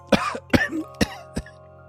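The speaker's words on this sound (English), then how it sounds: "letting out a small, laughing cough" Four short coughs spaced apart, the first two with a slight voiced, laughing lilt, close and clear against quiet background hum.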